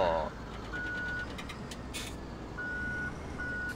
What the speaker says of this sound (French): On entend bip bip bip parce que j'essayais de reculer